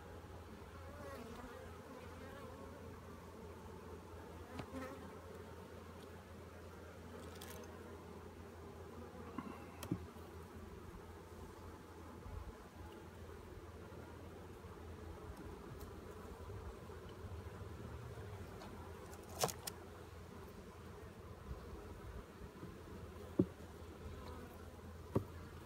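Upset honeybees swarming after a hive frame is dropped during a hive inspection, a continuous droning buzz with occasional louder passes near the microphone, no talking.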